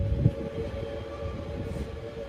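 Train pulling away on the descent through the Schöllenen Gorge toward Göschenen, a steady low rolling rumble with faint tonal hum that holds at even loudness throughout, with no voices.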